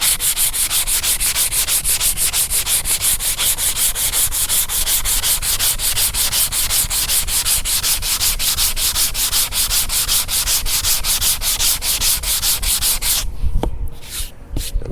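Continuous rapid back-and-forth sanding of fiberglass filler on a cracked dash pad in a box Chevy, loud and close with a fast even rhythm, stopping abruptly near the end.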